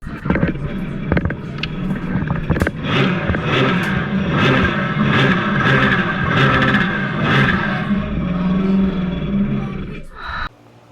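A Yamaha SuperJet stand-up jet ski fitted with a Riva Free Flow exhaust cranks and catches, its engine firing in uneven bursts and revving loudly and close before cutting off abruptly near the end.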